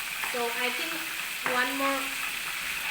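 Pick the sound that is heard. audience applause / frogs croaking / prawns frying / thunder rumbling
prawns frying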